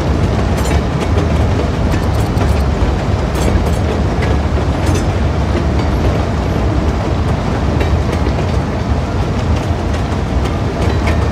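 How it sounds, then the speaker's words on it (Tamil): A cargo train in Cities Skylines 2 rolls past with steady loud rumbling and rhythmic clickety-clack from the wheels, continuous and close throughout with no voices. "இப்போ வந்து வெளியேருந்து ஒரு கார்கோ ட்ரெயின் உள்ளே வந்திருக்கு."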